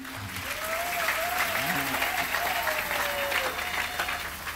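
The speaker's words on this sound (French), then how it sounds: "Applaudissez d'abord pour lui." A church congregation breaks into sustained applause during a sermon, broad and steady clapping with a faint sung or hummed tone drifting over it.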